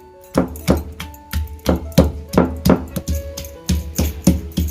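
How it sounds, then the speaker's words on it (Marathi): Roasted onion being finely chopped with a knife on a board for a Malvani-style crab curry, steady repeated chops in a brisk rhythm, close and fairly loud, with no talking. "अशाच प्रकारे कांदा पण आपल्याला बारीक करून घ्यायचा आहे"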